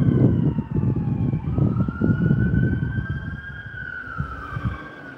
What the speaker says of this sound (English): Now, the ambulance is here for your girl,